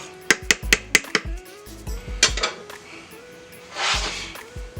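Utensil stirring four-cheese ravioli into a soup pot, heard as a quick run of sharp clinks and scrapes against the pot, then a softer rustling swirl, close and fairly loud with no one talking.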